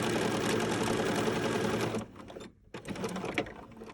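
A Bernina sewing machine chain-stitches quilt fabric pieces in a fast steady whir that stops briefly, then resumes in shorter bursts, close up with no talk.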